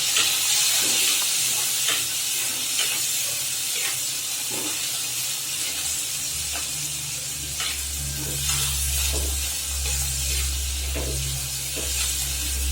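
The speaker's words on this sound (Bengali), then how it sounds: "কড়াইয়ের মধ্যে তেল দিচ্ছি, সামান্য লবণ আর হলুদ দিয়ে শুটকিটা ভাজবো।" Dried fish frying in oil with salt and turmeric in a pan, a constant close hiss and sizzle with occasional stirring taps and a low rumble underneath.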